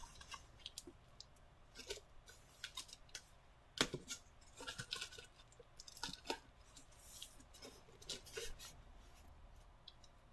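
A blade slices through a cardboard shipping box with faint, scattered scraping and ripping cuts and a few sharper snaps, all quiet and close with no talking.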